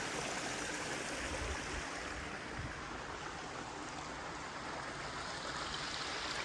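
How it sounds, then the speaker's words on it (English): Water feature spilling into a pebble-tec pool with a Baja shelf and large hot tub at a Lake Havasu home, giving a steady, close, full-bodied trickle and splash that runs unbroken throughout with no talk. "Nice water feature."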